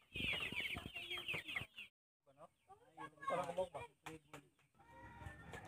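Three-day-old chicks peep and cluck in rapid high chirps, with someone talking over them at times.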